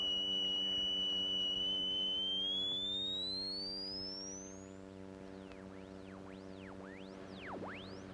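A steady, thin high-pitched pure tone around 3,000 hertz sounds on its own, faint and constant, sliding slightly upward as a low hum lingers beneath.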